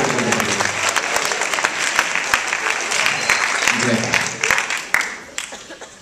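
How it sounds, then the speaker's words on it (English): A crowd claps loudly and steadily for several seconds at a salsa dance showcase, with a few voices and cheers mixed into the dense applause. "round of applause, please"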